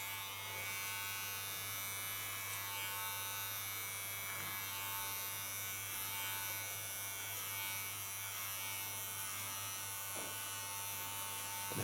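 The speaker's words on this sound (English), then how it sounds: "you can correct the lines and guide them into the clipper" An electric hair clipper buzzes continuously while cutting very fine hair ultra short, a steady faint motor hum with a low electrical drone and small texture changes as it pushes through the hair, no talking.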